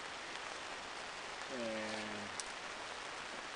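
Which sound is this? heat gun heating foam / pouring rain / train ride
pouring rain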